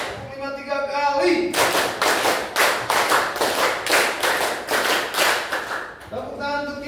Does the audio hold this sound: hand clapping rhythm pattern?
yes